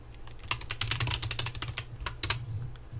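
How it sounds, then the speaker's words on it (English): Fast, steady typing on a computer keyboard, dense close-up key clicks running nearly throughout, slowing into a few scattered taps at the end, with no voices. "that's my microphone picking up the typing sound"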